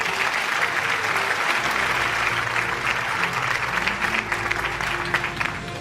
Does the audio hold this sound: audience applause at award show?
yes